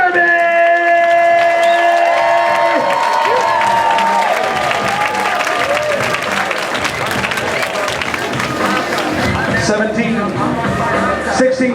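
A roller derby crowd cheers and applauds loudly at halftime, a dense continuous roar of clapping, whoops and shouts filling the arena, with an announcer's amplified voice ringing over it at the start.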